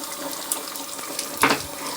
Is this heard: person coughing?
no